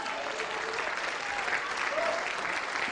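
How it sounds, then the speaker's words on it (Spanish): A congregation claps during a Spanish-language church sermon, a loud, steady wash of applause filling nearly three seconds with faint voices mixed in. "Denle un aplauso a Jesús"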